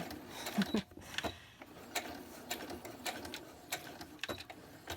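A sewing machine stitches through a handmade book cover, giving a busy, close mechanical whir with rapid clicking bursts, broken by brief pauses and handling of the material.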